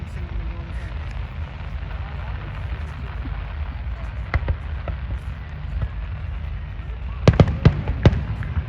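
Fireworks burst at the Qatar International Food Festival in Al-Bidda Park: a single distant pop, then a quick cluster of sharp cracks near the end over a low outdoor crowd rumble.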